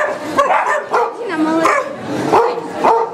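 A guard dog in protection training at a competition ring barks in repeated sharp bursts, close and loud, with people talking over and between the barks.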